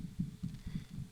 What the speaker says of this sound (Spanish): Escuché mi corazón, lo sentía en mi cuerpo, sus latidos cada vez más y más rápidos